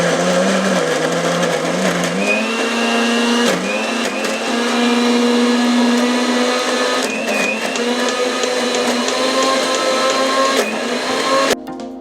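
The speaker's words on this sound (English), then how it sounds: "Now we'll grind our masala." A kitchen blender grinds masala spices for a mutton paya gravy, a loud, steady motor whine running continuously with slight shifts in pitch as the spices break down, then cutting off at the end.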